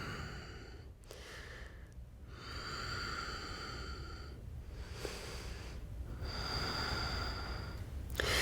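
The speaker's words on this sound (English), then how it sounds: "Deep breaths here." Slow, deep breaths in a yoga class, each long airy inhale and exhale heard close and alone, repeating in a calm rhythm with a few short pauses.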